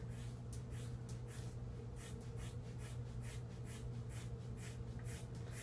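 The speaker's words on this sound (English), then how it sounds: "These scissors are so bad." Poor-quality scissors snip through a woman's hair close by before a head shave, a steady run of quick, crisp cuts repeating in a loose rhythm over a low background hum.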